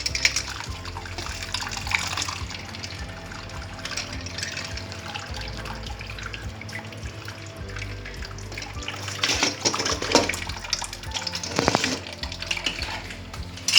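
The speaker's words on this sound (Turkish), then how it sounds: "Biraz soğuk suyu açtım." Cold water pours steadily from a kitchen tap over manti draining in a colander, a continuous close splashing rush lasting throughout, with a few brief clatters of metal mixed in.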